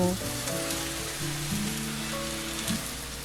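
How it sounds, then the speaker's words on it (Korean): A vegetable pancake fries in a pan with a steady, close crackling sizzle that runs throughout, while faint low tones hum underneath. "갖가지 야채를 넣어 부침개도 부치고"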